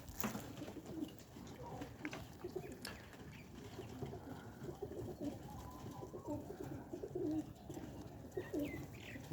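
Pigeons coo in low, soft, rolling calls, several birds close by with repeated overlapping coos and occasional light rustles against a quiet outdoor background.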